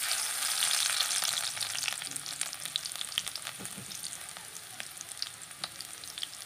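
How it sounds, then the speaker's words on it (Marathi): Crushed garlic cloves fry in hot oil in a kadhai, a steady bright sizzle with crackling pops that is loudest at first and then settles into a softer continuous fizz, with no voices. "कढईतलं तेल तापलेलं आहे, त्यामध्ये आपण ठेचलेल्या लसणाच्या पाकळ्या टाकू"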